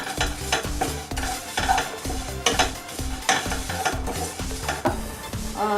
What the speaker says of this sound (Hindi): फ्राई कर लेते हैं, थोड़ा सा आग बढ़ा दीजिए और हिलाते रहेंगे।